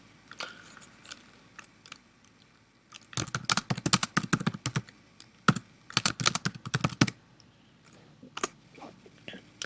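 Rapid clacking of computer keyboard keys in bursts of typing into a spreadsheet, close and clear, with short pauses between runs of keystrokes.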